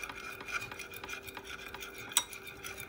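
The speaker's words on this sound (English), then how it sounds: "mix it all together." Grapeseed oil and agave being mixed in a bowl, with quiet, close clinks and scrapes of a utensil and a sharper clink near the end.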